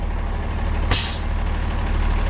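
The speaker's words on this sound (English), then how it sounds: "All right, set the brakes." Air brakes being set on a 1990 Chevy truck, a single loud hissing burst of released air lasting about a third of a second over a steady idling engine rumble.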